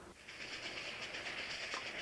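A passenger train runs along Northeast Corridor tracks, a steady moderate rushing and rumbling roll with faint rhythmic clatter, heard alone and fairly distant.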